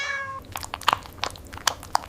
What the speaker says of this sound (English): He meows more.